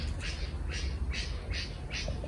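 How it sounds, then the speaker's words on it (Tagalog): A bird gives five evenly spaced harsh, raspy squawks in quick succession outdoors in a residential compound, loud and close over a steady low background rumble. "Ingay ng ibon, ano?"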